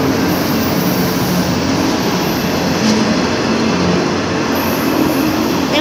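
A Norfolk Southern freight train rolls past on a Union Pacific line, close and loud, a steady heavy rumble of wheels and cars with faint rail squeal throughout and no talking.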